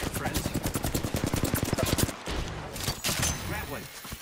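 Rapid bursts of automatic gunfire in a shooter video game, dense and loud for two seconds, then scattered shots and impacts while a voice talks over the action.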